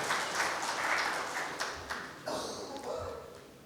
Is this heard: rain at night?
no